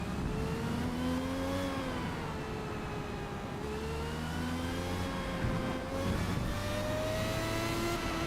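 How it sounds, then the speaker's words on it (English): A race car engine in the Forza Motorsport video game revs and climbs through the gears in repeated rising sweeps, each pull dropping back at a shift, loud and continuous without pause. "I want the engine to rev a bit louder."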